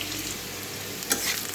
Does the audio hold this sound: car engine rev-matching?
no